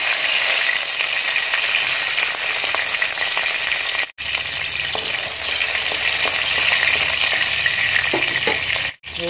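Fenugreek seeds and green chillies sizzle and crackle steadily in coconut oil in a pan, the start of a Kerala sardine curry, with a continuous close frying sound and brief stirring scrapes.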